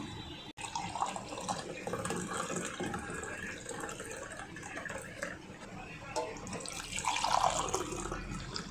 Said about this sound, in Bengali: অল্প নুন দিচ্ছি, দিয়ে জল দিয়ে এটা গুলিয়ে নেব।